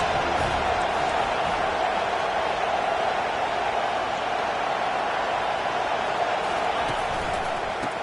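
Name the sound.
football stadium crowd cheering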